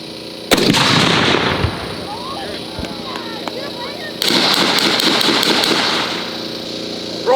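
A tank gun fires with a loud, sharp blast that rolls into a long rumbling decay, and a second heavy boom follows a few seconds later. The shots come at an outdoor display of historic tanks.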